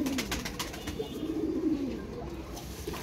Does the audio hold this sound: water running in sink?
no